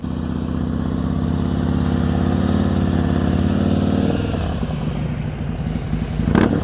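A motorcycle engine idles and pulls at low speed while the rider works the clutch in the friction zone during a slow-riding exercise, a steady close rumble that eases off near the end as the bike comes to a smooth stop.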